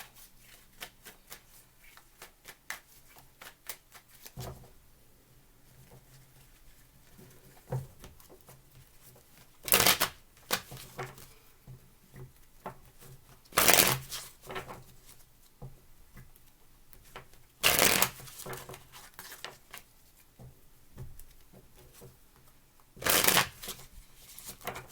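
Tarot cards being shuffled up close, a steady soft riffling patter punctuated by four louder bursts of riffle spaced a few seconds apart, with no talking.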